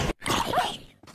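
A pet dog in Minecraft gives a brief yip and whine, close and moderately loud, with sharp cut-offs at both ends.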